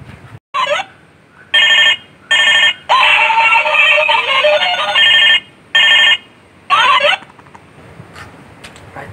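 A telephone ringing in bursts: several electronic trill rings with short silent gaps between them, loud and close, and no voices in between.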